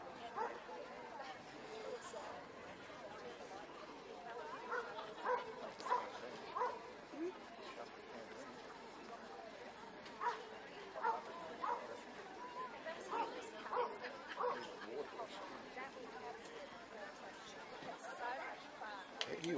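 Puppies at a dog show bark and yip in scattered, faint bursts while judges examine them, heard under background chatter and a commentator's voice in a large hall.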